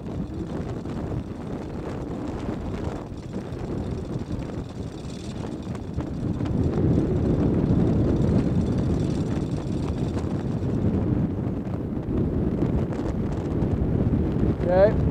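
Strong gusty wind roars across a sailboat riding at anchor in heavy weather, a continuous loud rush that swells midway, with voices talking now and then.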